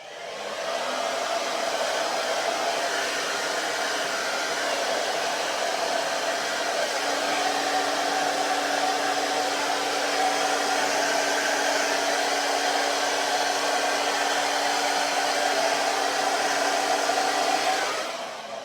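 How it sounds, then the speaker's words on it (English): A hair dryer blows steadily and loudly for the whole stretch, a constant whirring rush with a faint hum joining partway through. "I feel like I want to blast it with the hairdryer"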